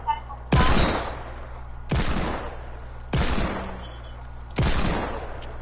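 Four loud, separate gunshots from a gun in a creative-mode video game, each a sharp blast with a decaying tail, spaced roughly a second and a half apart.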